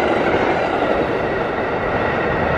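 An MBTA Green Line train runs along the rails, heard from inside as a loud, steady rumble and roar of wheels on track that holds for the whole stretch without any talk.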